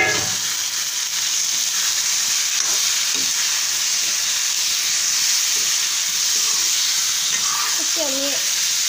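Marinated chicken fries in hot spiced oil with a steady, loud sizzle and hiss that lasts throughout, with faint stirring clatter and a brief voice near the end.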